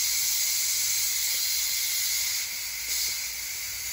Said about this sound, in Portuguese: Sai todo vapor.